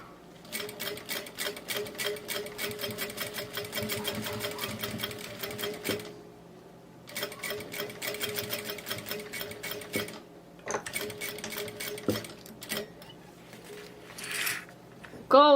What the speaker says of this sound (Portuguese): a gente vai passar a costurinha aqui também